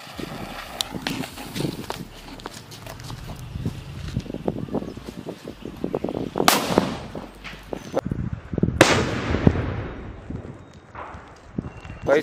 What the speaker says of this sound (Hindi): अब जलाते हैं इस वाले टाइगर के सूतली बम को, काफी बड़ा सूतली बम है,